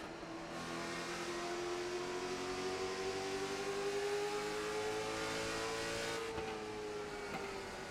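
Race cars run side by side in a Tater Chip Racing Series race, a steady loud engine drone with a slowly rising pitch, heard alone.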